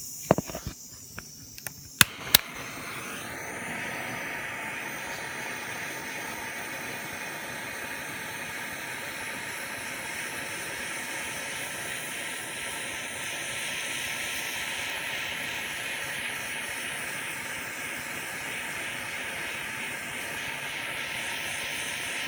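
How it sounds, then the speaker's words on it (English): A kitchen torch caramelizing sugar on an Instant Pot crème brûlée lets out a steady, loud, close hiss and roar that runs on unbroken after a few sharp clicks and knocks as it lights. "see if I can get the torch on"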